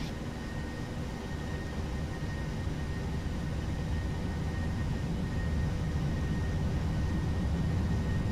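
Boeing 737-800 engines roar at takeoff thrust in a flight simulator, a steady broadband rumble that swells slightly toward the end.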